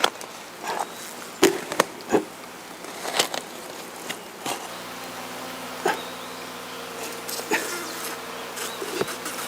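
Native honeybees kept by a longtime beekeeper in the Jirisan mountains buzz close by in a thin, steady drone, broken by scattered sharp knocks and brief louder passes of individual insects.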